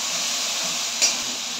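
Tomato dropped into hot oil in a pan already holding a whole dried red chilli, onion and garlic while chital fish curry cooks; a steady, bright sizzle and hiss runs throughout, with a small clink near the end.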